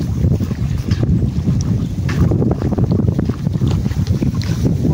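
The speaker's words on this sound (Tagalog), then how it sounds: "Lumakas yung alon." Strong afternoon sea waves wash around a small fishing boat, with constant heavy wind buffeting the microphone and a steady rushing, churning roar throughout, loud and unbroken.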